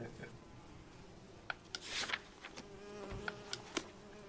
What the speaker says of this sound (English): Flies buzzing around and shit.